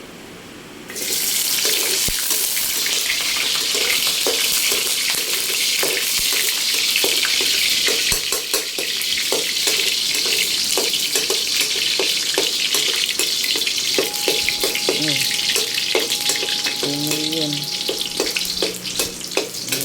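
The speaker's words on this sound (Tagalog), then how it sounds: "Igisa natin ang bawang. And then sibuyas." Garlic and onion sauté in a pan with a loud, steady hiss that sounds almost like running water, dotted with taps and scrapes of stirring, while a voice speaks briefly near the end.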